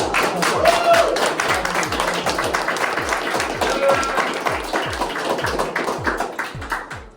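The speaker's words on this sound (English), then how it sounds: "It's a round of applause for the podcast team." A small group claps briskly for several seconds, a short round of applause with a faint voice underneath.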